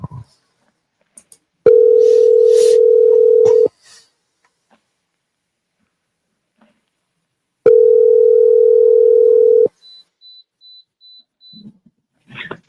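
A telephone call rings out with two long, steady ringback tones a few seconds apart, separated by silence, followed by faint scattered clicks.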